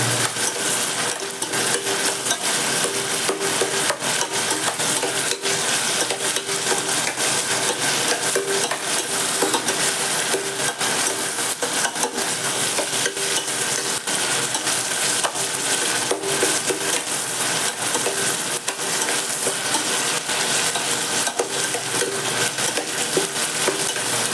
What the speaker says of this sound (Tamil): ஃப்ரை போடுவோம் இன்னும் ஃப்ரை ஆகும்